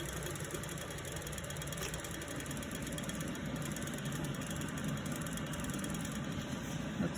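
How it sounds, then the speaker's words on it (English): Loud exhaust fan running in a studio during encaustic painting with black oil stick, a steady broadband whir with a low mechanical drone, constant throughout with no talk. "that's my fan, exhaust fan that makes it a safe environment"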